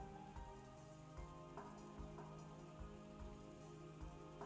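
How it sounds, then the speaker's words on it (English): Steady soft rain pattering on a surface inside the Umineko visual novel soundtrack, continuous and faint with background music tones running beneath it. "It sounds like a rain."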